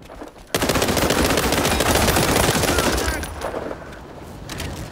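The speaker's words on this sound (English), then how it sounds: "They're shooting at us, Tommy." Dense, sustained automatic gunfire in the video game World War 3, loud and close with rapid overlapping shots for a few seconds before easing into lighter bursts, with voices talking underneath.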